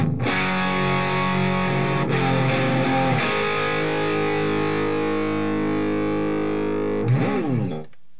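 Loud distorted electric guitar plays the chorus of a song with sustained chords and a few chord changes, ending in a bending slide before it cuts off.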